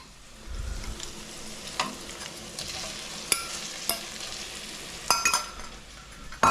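Pulled pork hits a pan of softened onions and fries with a quiet, steady sizzle, broken by scattered scrapes and clacks of stirring and a few sharper knocks near the end.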